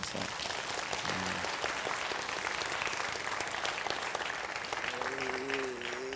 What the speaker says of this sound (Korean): 우리 자녀들 위해서 박수 한번 좀 쳐서.